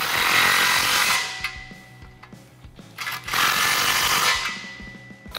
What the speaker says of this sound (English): grab your 15 socket and tighten down your factory clamp.